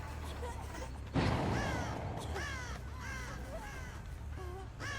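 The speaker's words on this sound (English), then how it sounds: "When they have birds circling them like that" Crows circling overhead in Dead by Daylight give repeated harsh caws, several calls spaced over a few seconds, while a low rumble swells in the background.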